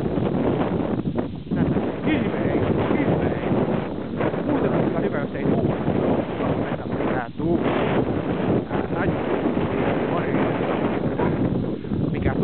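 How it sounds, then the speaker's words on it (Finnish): Steady, loud wind buffeting the microphone throughout, a constant roar with brief dips, heard outdoors with no voices. "tuuli, mutta ei haittaa menoa"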